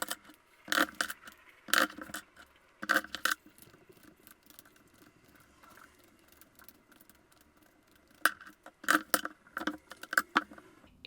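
Tarot cards being shuffled by hand in bursts of crisp riffling and slapping, clustered at the start and again near the end with softer rustling between, close and alone.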